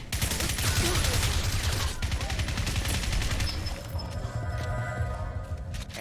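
Suppressed gunfire in Crysis, with a silencer fitted and maximum armor mode on; rapid, evenly spaced shots rattle in loud, close bursts that briefly pause and then resume.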